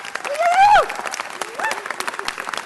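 Audience applause for a neighborhood council at a city council meeting, a noisy burst of clapping mixed with crowd voices and a rising whistle-like cry, peaking early and then thinning into scattered claps.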